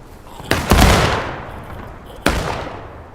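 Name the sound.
gunfire and cannon shots in a video game battle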